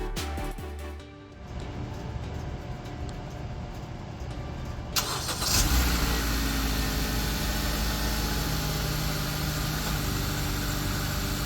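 A Honda Accord engine, repaired for a knocking noise at startup, cranks and catches, then settles into a steady idle with a continuous low rumble, heard close.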